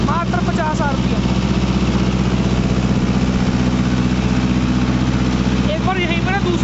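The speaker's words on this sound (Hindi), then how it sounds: "पूरे फुल लीवर डाउन करके मात्र 50 RPM ड्रॉप कर रहा है ट्रैक्टर" A Mahindra NOVO 655 tractor engine drones loudly and steadily under load, pulling a 9-foot Param rotavator through hard black soil, with a voice speaking over the engine noise.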